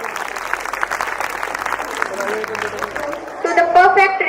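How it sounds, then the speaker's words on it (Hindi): An audience claps at a school annual day celebration, with applause building under a loud announcer's voice and growing stronger toward the end as music or cheering joins in. "एक जोरदार तालियों की गूंज के साथ स्वागत करते हैं"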